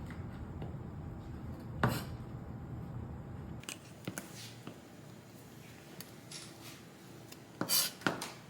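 Knife cutting dried pumpkin strips for songpyeon and soemeoritteok rice cakes, a few sparse close taps and scrapes on a board over a faint room hum.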